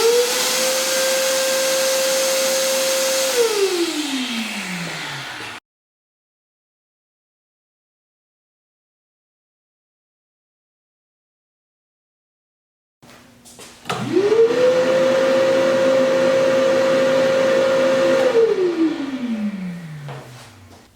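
Workshop dust collector running outside its enclosure box, spinning up to a loud steady whine with rushing air, then winding down, a long silence, and a second start-up and spin-down.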